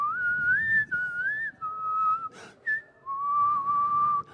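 Someone whistles a relaxed, casual melody alone, clear and close, with sustained notes gliding between pitches and short breaths between phrases, plus one brief breathy noise midway.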